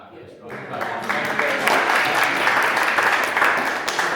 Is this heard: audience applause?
yes